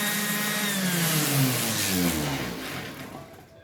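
Orbital sander whirring steadily and loudly up close, sanding a Miata's body for paint, before the motor winds down near the end.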